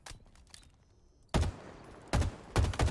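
Assault rifle fire in Halo Infinite, quick bursts of loud automatic shots after a quieter stretch, three sharp clusters in the second half.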